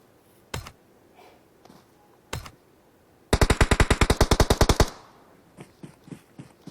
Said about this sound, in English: Survival taking shots at Luxy